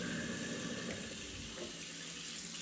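Water from a kitchen tap runs steadily over dishes being rinsed, a soft continuous hiss and splash close by, without talk.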